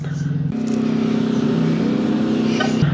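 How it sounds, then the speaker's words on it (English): A refrigerated reefer trailer unit runs on a parked Walmart truck at night, a steady diesel drone and hum that steps up in strength after a moment and holds loud and close throughout. "That's a reefer trailer."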